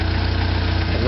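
A 1999 Jeep Wrangler SE 4-cylinder engine idling, a loud, steady, noisy low rumble filling the whole short stretch with no break.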